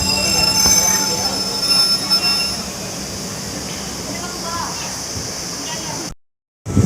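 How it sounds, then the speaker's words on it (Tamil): A Salem–Yesvantpur express passenger train departing Anekal Road station rumbles along the rails with a steady roar and high metallic wheel squeal, loud and close, before cutting out abruptly near the end. "நம்ம ட்ரெயின் ஆனேக்கல் ரோட் ரயில்வே ஸ்டேஷன்லேருந்து கிளம்பியாச்சுங்க"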